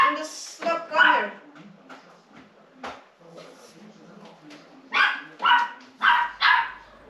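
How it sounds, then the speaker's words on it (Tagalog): A dog barks indoors while a person talks, with scattered yips early on and then a run of four loud, close barks toward the end. "Tumatahol pag magbabacuum ako."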